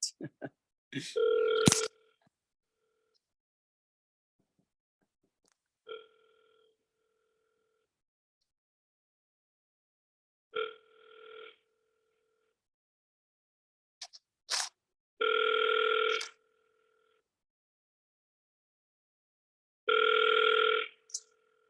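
An outgoing telephone call rings, the ringback tone sounding in several evenly spaced bursts with long silent gaps, ending in two longer, louder tones before a recorded voicemail greeting.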